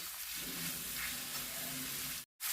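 Tomatoes and onions sizzle steadily in a hot pan with red chili powder and turmeric, a close, continuous frying hiss that cuts out briefly near the end.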